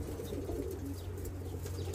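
High-flying breed pigeons coo softly inside a coop, giving low, throaty, rolling calls over a steady background hum, quiet and somewhat distant.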